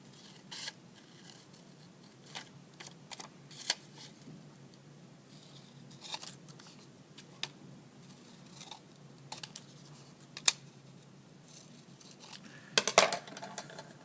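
Scissors cut paper into squares and triangles, making sparse, crisp snips spaced irregularly in a quiet room, with a small cluster of faster cuts near the end.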